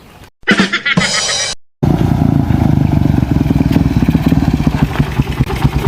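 A motorcycle engine runs close by with a rough, pulsing rumble, after a brief burst of clatter and noise at the start.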